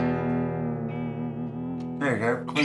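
An electric guitar rings out a sustained chord with a clean tone, holding steadily before a brighter, busier strum of a new chord near the end, close and moderately loud.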